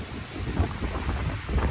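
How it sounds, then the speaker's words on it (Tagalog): Strong hurricane wind in Florida roars steadily with gusty low rumbling and broad noise, no voices. "grabe guys, sobrang lakas ng hangin."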